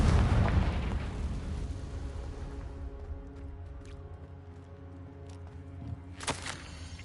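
A booming spell explosion in the Hogwarts Legacy video game, a loud deep blast that rumbles away over a few seconds, followed by a sharp crackle near the end.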